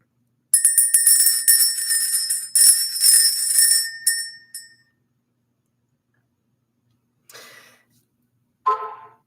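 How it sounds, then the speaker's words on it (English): A ritual bell is rung repeatedly for about four seconds in a bright, ringing cluster of strikes, followed by silence and two brief, fainter rings near the end; no voices. "Let's ring the bell."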